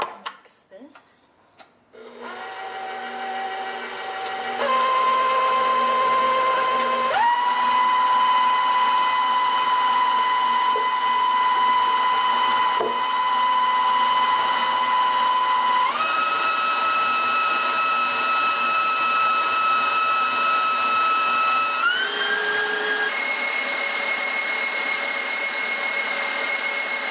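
An electric mixer whirs steadily for a long stretch, its pitch stepping up and down between speed changes, as it beats a chocolate ganache filling; it starts after a few clicks and stays loud and continuous.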